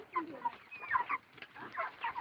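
Farm chickens at feeding time cluck and chatter close by, a busy flock of overlapping short calls in an uneven rhythm, fairly quiet overall.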